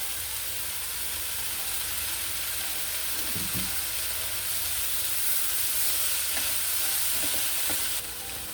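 Vegetables sauteing in olive oil in a skillet, a steady broadband sizzle heard close with a few faint clinks of a utensil partway through.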